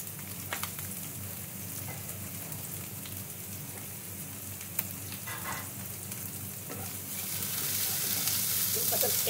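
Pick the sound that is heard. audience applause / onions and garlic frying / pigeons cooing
onions and garlic frying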